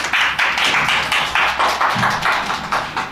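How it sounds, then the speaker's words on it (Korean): An audience claps to welcome two speakers at a Busan Biennale 2022 preparatory talk on photography, a dense, steady round of applause with a rhythmic pulse that fills the room and stays loud throughout. "그럼 두 분을 박수로 맞이해 주시면 감사하겠습니다"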